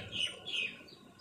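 Birds chirp in the morning from trees near a house, with two clear bright calls over quiet background and no talking.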